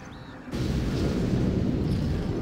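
Cannon fire in the video game Contra: after a brief quiet start, a heavy booming blast opens into a sustained low rumble that carries loud and steady to the end.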